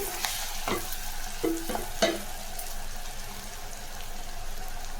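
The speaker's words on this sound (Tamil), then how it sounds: "வெங்காயம் நல்லா வதங்கிடுச்சு" Onions sauté in a pan for an onion masala, giving a steady close sizzle with a few scraping stirs of the spoon partway through.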